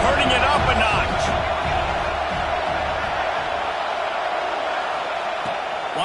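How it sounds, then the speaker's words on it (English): A football stadium crowd at an FCS game swells steadily into a loud, continuous roar before second down, heard up close, while an announcer talks over it. "this crowd is turning it up a notch."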